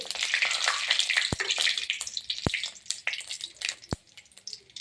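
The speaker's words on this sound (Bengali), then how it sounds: "তেল গরম হয়ে গেছে আমি দিয়ে দেবো তেজপাতা দিয়ে দেবো জিরে ফোড়ন একটু এটাকে নেড়ে চেড়ে" Bay leaf and cumin seeds hit hot oil for a fish curry, producing a bright, hissing sizzle broken by a few sharp crackling pops, close and fairly loud, with no talking.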